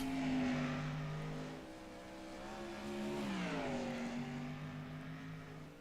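Car number 87 rolling out onto the short oval track at the Ironman 55 night race, a steady close engine drone with harmonic tones that dip and rise as it shifts and accelerates away.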